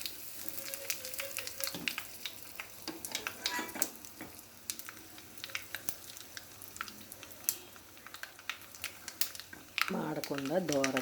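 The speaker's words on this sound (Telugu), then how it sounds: "మాడకుండా దోరగా తాలింపు పెట్టుకొని" Tempering spices sizzle and crackle in hot oil for eggplant bajji, a close, busy frying hiss with scattered pops and stirring scrapes, and a voice joins briefly near the end.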